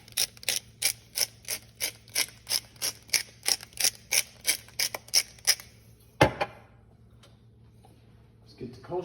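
A pepper grinder cranks peppercorns over raw short ribs in about fifteen steady, evenly spaced ratcheting bursts, close and crisp, followed by a single sharp knock and then quiet room tone.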